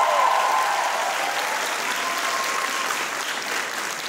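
A comedy concert audience at a charity show claps in sustained applause, loud at first and tapering gently as it continues.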